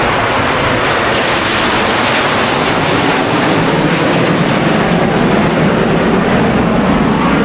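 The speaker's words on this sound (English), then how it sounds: "That's the Snowbirds, the Canadian National Aerobatic Team, and they just flew over our heads." Canadian Snowbirds aerobatic team jets pass directly overhead with a loud, steady, broadband roar that fills the whole stretch without letup, drowning out everything else.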